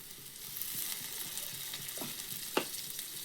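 Masala and grated coconut frying in oil, a soft steady sizzle with a few light stirring scrapes and one sharper clink near the end, quiet and close with no voices.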